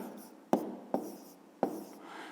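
Pen writing on paper in a math exercise, a soft scratchy rustle broken by three sharp taps, close and quiet.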